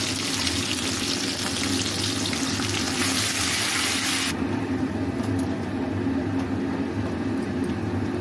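A paste of ground onion, tomato, garlic and dried chilli hits hot frying oil, giving a loud, steady, close sizzling hiss that drops to a softer, lower crackle partway through, with no voices.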